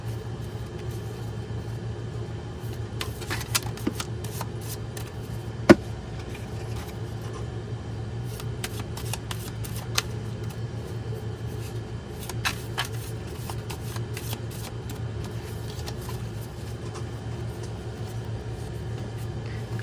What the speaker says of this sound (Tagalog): Pero kailangan pa rin po nating balasahin.